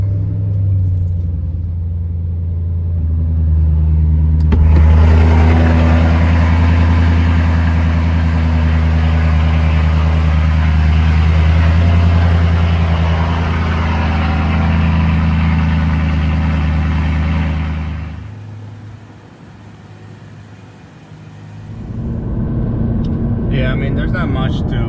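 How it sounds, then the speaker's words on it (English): A BMW E90 M3 idles after a cold start with a deep, steady rumble for most of the time, then briefly quiets before the engine note returns. Voices are faintly present. "Here we are with the E90"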